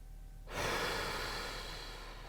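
A person exhales in a long, close breath while relaxing their leg's weight onto a massage ball during hip mobility work.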